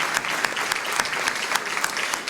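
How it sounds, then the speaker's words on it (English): Audience applause for honor roll students at a school board of education meeting: dense, steady clapping from a room full of people, sustained throughout at moderate loudness. "So please give our students a big round of applause."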